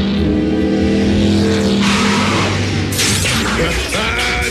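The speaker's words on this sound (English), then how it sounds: "I'd know the hum of that engine anywhere" A car engine hums in an animated Transformers Prime episode, a steady mechanical drone blended with sustained music tones, followed by sharper screeching and whooshing bursts.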